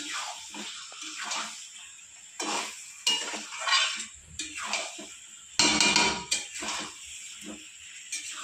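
Chicken and potatoes being stirred with spices in a frying pan, with repeated scraping and clattering of a utensil against the pan in uneven bursts and short quiet gaps between them.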